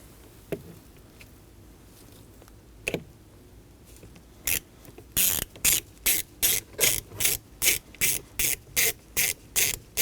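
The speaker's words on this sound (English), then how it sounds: "I'm going to install our first screw, which is our front T25 screw." A T25 Torx screw being driven into the ignition switch of a 2014-2023 Ford Transit Connect with a ratcheting driver, giving a steady series of about a dozen close, sharp clicks after a few scattered taps.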